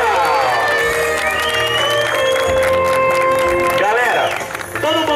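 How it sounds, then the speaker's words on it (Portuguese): Cheering crowd at a 15th birthday party clapping and shouting over loud music with sustained tones, a dense continuous roar that dips briefly near the end. "Uma salva de palmas para nossa homenageada!"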